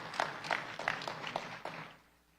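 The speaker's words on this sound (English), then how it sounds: "So let's give them a round of applause," An audience at a Las Vegas Civic Center ribbon-cutting ceremony gives a short round of applause, with roughly steady claps that fade out after a couple of seconds, heard from a moderate distance.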